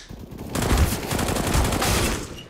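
AK rifle fire sounds in a CS:GO esports match on the Nuke map. Rapid, dense bursts of automatic gunfire crackle for about two seconds, loud and close.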